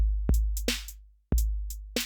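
Programmed drum loop with deliberately randomized timing and velocity: a kick, snare hits and bright hi-hat ticks in an uneven, slightly lurching pattern, close and dry, repeating twice with no voices.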